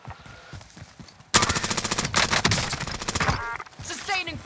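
A Kilo assault rifle in Warzone opens up in loud, sustained automatic fire after brief talk, a fast continuous string of shots that tapers into voices at the end.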